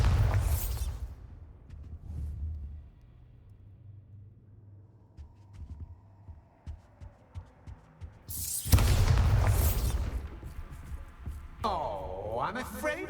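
A Bombarda explosion spell cast in the video game Hogwarts Legacy, bursting loud and close with a heavy boom and rumbling tail, framed by quieter game ambience and rumbles before and after.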